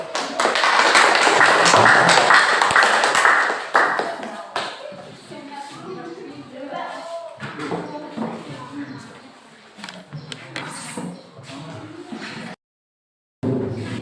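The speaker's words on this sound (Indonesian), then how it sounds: "Beri aplaus untuk kelompok kinestetik" Classroom applause for the kinesthetic student group fills the first four seconds with dense clapping, then thins into shuffling, taps and background talk.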